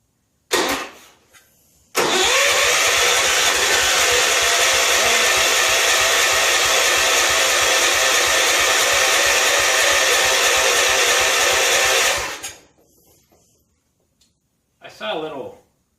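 A barn-find John Deere 140 H1 garden tractor's engine, started cold after long storage, bursts into a loud, steady roar for about ten seconds, then cuts out abruptly, with brief short bursts of noise before and after.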